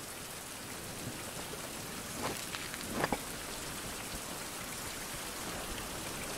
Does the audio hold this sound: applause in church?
no